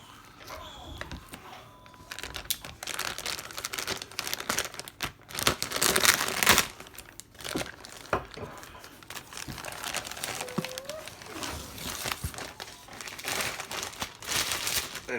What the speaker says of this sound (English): I've never opened it out of the plastic bag.